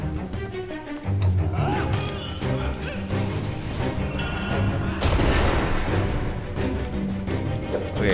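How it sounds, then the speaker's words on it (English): Explosions boom in the dungeon-crawling card game Hand of Fate, several sharp blasts and crashes landing over layered game music and effects, loud and close. "There was an explosion from something and it killed me"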